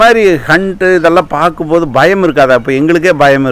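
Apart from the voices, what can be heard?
No everyday noise stands out behind the speech.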